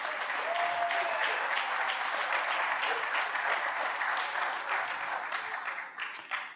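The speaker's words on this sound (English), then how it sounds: "I want everybody to give a round of applause to everybody that you'll see on the stage today" Steady applause from an audience fills a museum music event, a dense wash of clapping at moderate distance that gradually thins out toward the end.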